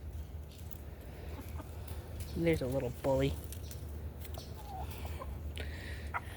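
Backyard hens in a suburban coop give a few short, rising clucks close by, while a person talks over them.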